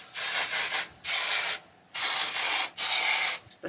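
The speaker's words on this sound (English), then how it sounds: "we're gonna see how it works for dry shampoo" Andrelon dry shampoo for brunette hair sprayed from an aerosol can in four loud hissing bursts, each roughly half a second to a second long with short gaps, close up with no talking.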